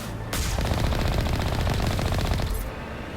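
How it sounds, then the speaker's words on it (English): Sustained automatic gunfire from a weapon in the video game Mass Effect, a loud continuous rattling burst that starts abruptly after a brief lull and runs nearly three seconds before cutting off. "I like the way the gun sounds."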